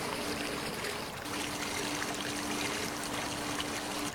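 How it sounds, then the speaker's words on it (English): A creek runs in a steady, continuous rush and trickle of flowing water, close and even throughout with no voices over it. "There's a creek."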